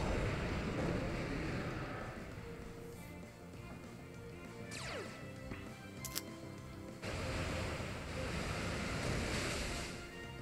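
Surf attack effect from the Pokémon Omega Ruby game, a continuous wash of rolling waves and windy rushing noise with brief sharp sweeps in the middle, fairly quiet and steady.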